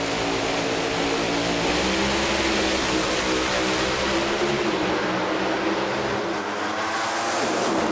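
A drag race car engine roars loudly and continuously at a Lucas Oil Sportsman Show event in Charlotte, North Carolina, a dense, steady blare that holds for several seconds before easing slightly near the end.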